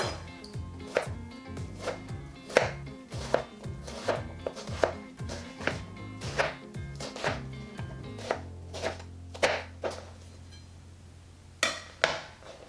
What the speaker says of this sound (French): Couper en lamelles. Couper en lamelles, façon classique.